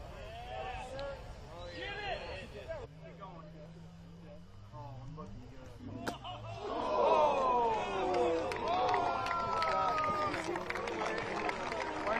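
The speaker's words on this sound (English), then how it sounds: "We hear all sorts of groans coming from the crowd and reaction." Spectators at a professional disc golf final round in Des Moines let out a swelling, loud collective groan and murmur in reaction to a shot that skipped off a stump, following a quieter stretch.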